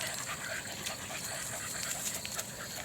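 Dogs pant steadily and rhythmically up close beside a freshwater pond, with faint whimpers over a constant outdoor background and no speech.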